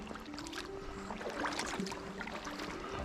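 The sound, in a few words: kayak paddling with hands in Kosi pogies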